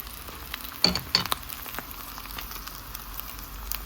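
Food sizzles faintly in a frying pan, a soft steady hiss, broken early by a couple of sharp clinks of a utensil against the pan.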